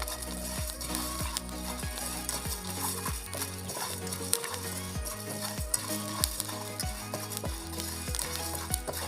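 Rice dry-roasts in a pan without oil, crackling and popping steadily while a utensil stirs in a regular scraping rhythm, close and fairly loud with no talk.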